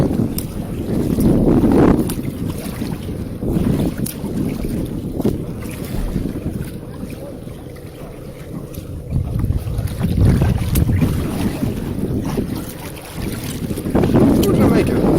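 Boat cruising through a canal in Key Largo, a continuous low engine rumble and water wash mixed with heavy wind buffeting on the microphone, close and steady throughout.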